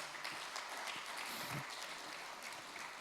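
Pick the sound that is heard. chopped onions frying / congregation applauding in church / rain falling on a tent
congregation applauding in church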